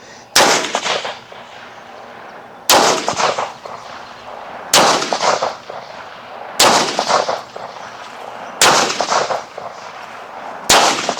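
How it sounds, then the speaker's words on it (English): Six sharp, loud Browning Hi-Power pistol shots fired at an outdoor shooting range, evenly spaced about two seconds apart, each followed by a short echoing tail. "This is actually my first time shooting a one of these. A high power."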